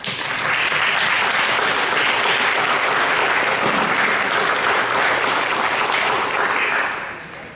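A crowd at a school board meeting applauds a student being honored. The clapping is dense and sustained for several seconds before tapering off near the end.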